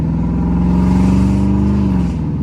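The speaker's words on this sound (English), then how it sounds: "pull in down here at the old gas station, hit the bumps, see how she feels." A modified car idles and rolls slowly over bumps at an old gas station, a loud, close, steady low engine rumble with a slight rise and fall, no talk.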